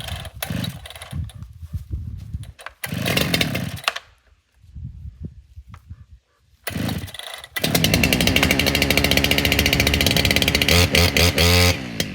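A 93cc chainsaw revs in short bursts with pauses, then roars loud and steady for several seconds, close by.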